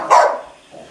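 A Boxer dog gives one short, loud bark up close, followed by a quieter trailing yip a moment later, with no talk over it.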